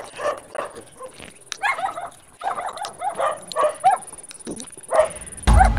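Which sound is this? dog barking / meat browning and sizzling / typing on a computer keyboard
dog barking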